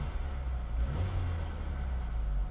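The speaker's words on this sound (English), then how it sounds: "as I step on the gas," A 2021 Mercedes-Benz GLA 250 4MATIC compact SUV engine pulls steadily as the throttle opens, a continuous low, even drone with a slight rise in intensity, heard close and alone without talk.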